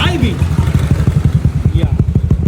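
A motorcycle engine fires up after a wiring check and settles into a loud, close, rapid thumping idle with a steady pulsing rhythm, while a voice briefly speaks over the start.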